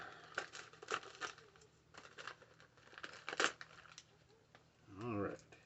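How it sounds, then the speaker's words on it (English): Scissors snip and crinkle through a plastic bag from a thrift-store toy lot, several close sharp cuts and rustles, with a voice briefly heard near the end. "Cut this next bag open."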